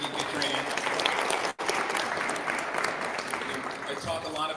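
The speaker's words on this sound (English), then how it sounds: "can we get a big round of applause for Ahmed and GK Training?" An audience at an AI demo night at Stevens University in Hoboken, New Jersey, claps loudly and steadily, with one brief dip partway through before the dense applause resumes.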